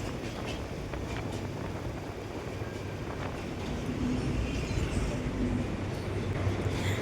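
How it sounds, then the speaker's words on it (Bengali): A passenger train passes beside a railway line near a newly built bridge, heard as a steady broadband rumble that swells slightly louder toward the end, with no talk. "সেই সময় দেখো একটা ট্রেন চলে যাচ্ছে, তাও আর প্যাসেঞ্জার ট্রেন"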